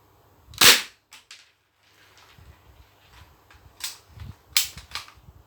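Thompson gun shots at a target: a few sharp separate cracks, one loud near report then several quieter ones with gaps, amid soft handling clatter.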